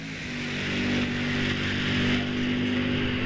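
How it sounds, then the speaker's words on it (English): An Oldsmobile drag racing car runs down the strip at about 165 mph, a sustained droning engine note swelling and holding at moderate loudness, heard from some distance with no speech. "Scott Oshinsky heading down the track in his Oldsmobile 837, 165 miles an hour"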